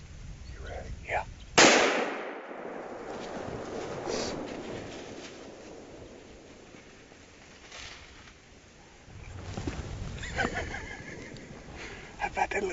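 A single sharp, loud gunshot cracks out nearby while hunting whitetail deer along the Mississippi River, followed by quiet outdoor ambience and, later, low voices talking.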